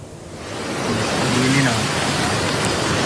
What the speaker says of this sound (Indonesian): Hujan deras yang mengguyur Kabupaten Balangan dan sekitarnya sejak Jumat memicu banjir bandang.